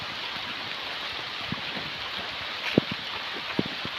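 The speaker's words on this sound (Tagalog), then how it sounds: "lumalakas na yung ulan" Steady rain falling and building in strength outdoors, a constant broad hiss with a few louder drips or taps standing out near the end, no speech.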